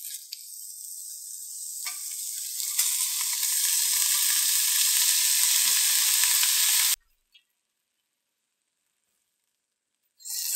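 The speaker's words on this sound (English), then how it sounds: "take a couple of these slices of bacon, we'll fry up and see what it looks like" Slices of homemade venison bacon sizzle steadily in a pan, a bright, even crackle building over about seven seconds before cutting off abruptly, with a brief return of sizzling at the very end.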